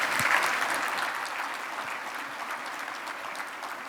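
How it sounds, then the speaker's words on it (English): Steady audience applause at Portsmouth's 2022 State of the City event, honoring city council members, a dense wash of clapping from a large crowd that slowly fades. "Please give them applause."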